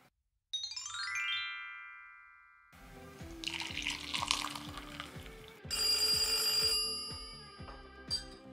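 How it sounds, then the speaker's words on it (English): A hotel room telephone sounds a wake-up call as a bright electronic ring at the start, then falls away. Running water from a sink or tap follows for several seconds, fairly faint, with no talk. "so that was my wake up call"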